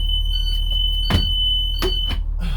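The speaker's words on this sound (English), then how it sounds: "Alarm sounds when it's open." A vehicle emergency window alarm gives a steady high electronic tone as the window is opened, with a few short knocks and rattles from the window hardware close by.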